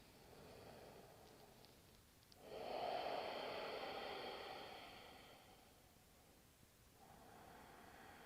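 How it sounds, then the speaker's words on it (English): Ujjayi yoga breathing: a slow, audible ocean-like breath through a narrowed throat, one long hissing exhale swelling and fading over several seconds, close and soft, with no talking. "And let's start Ujjayi."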